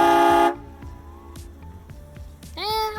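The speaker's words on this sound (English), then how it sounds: "I put a train horn in the truck just for this purpose" A train horn fitted to a truck blasts in a canyon during an off-road Jeep trip, one loud tone cut off sharply and then ringing back as fainter echoes, with a second blast rising at the end.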